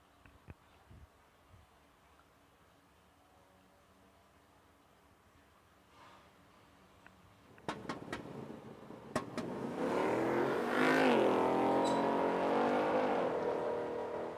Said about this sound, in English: Duster making a pass down the right side of the racetrack